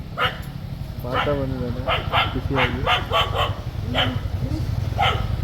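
A dog barks several times in short bursts while people talk over it nearby.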